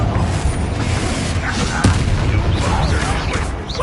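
A fiery Confringo spell detonates in Hogwarts Legacy, a loud rumbling blast with a sharp crack near the middle, set amid a dense, continuous roar of combat noise.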